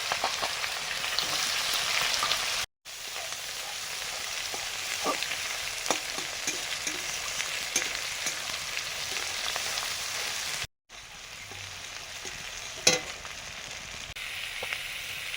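Dried chili, bay leaf and chopped onion frying in hot oil give a steady, loud sizzle with occasional stirring scrapes, broken by two brief silent gaps.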